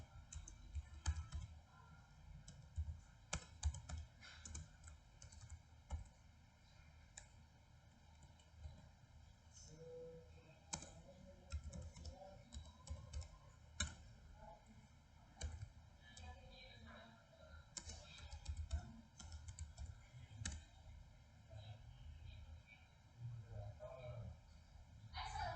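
Keys clack on a computer keyboard as commands are typed into a Linux system, with faint scattered clicks under a quiet background hum and occasional speech.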